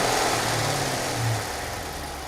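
An Audi engine with a suspected misfire runs close by, a loud rough mid-low drone that swells slightly in a mild rev before settling back to idle.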